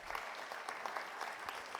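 Round of applause from the crowd at the CIDC Vishwakarma Awards 2024 ceremony as a CSR medal is presented, a faint, distant, steady clapping wash with occasional sharper claps and no talking.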